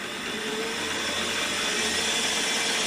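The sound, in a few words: drilling a center dimple into stainless steel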